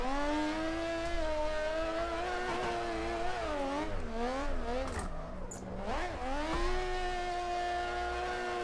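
A Mazda RX7 FD rotary car in the Assetto Corsa video game drives through a tunnel, its buzzing engine note holding high, dipping and wavering with throttle changes, then climbing again, loud and continuous.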